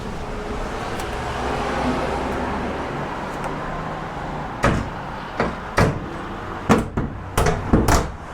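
Hood of a 1993 GMC Sierra truck being closed, heard as a handful of sharp metallic thuds and latch clunks, close by, following a stretch of low background hum.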